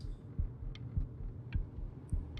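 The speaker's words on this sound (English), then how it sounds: "And we hear our heartbeat. We hear our heart." Heartbeat from the video game Before Your Eyes: four steady, deep low thumps about 0.6 seconds apart, each with a faint higher click, over a soft background hum.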